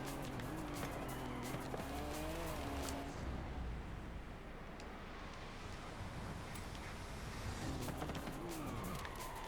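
A racing video game car brakes hard and its tires lock and skid, a loud continuous screech over the engine roar that fades into rumbling road noise before the engine climbs again.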